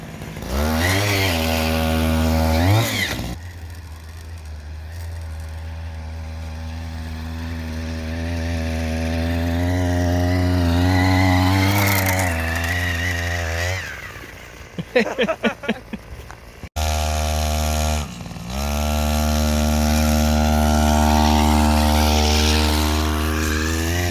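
A small two-stroke engine on a motorized scooter fitted with a DIY snow track buzzes and revs, rising and falling in pitch, cutting out briefly and restarting, loud and close.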